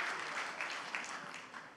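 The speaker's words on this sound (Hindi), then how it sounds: "यार देखिए तालियां बज रही है इस बात पर" An audience at The Growth Summit 2024 applauds in a steady, moderately distant wash of clapping, alone and fairly quiet.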